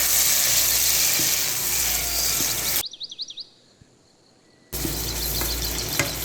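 Tomatoes sizzle loudly in hot oil for a Lahori mutton karahi as they are stirred in, a dense close frying hiss that cuts out briefly to near silence with faint chirps, then returns just as strong.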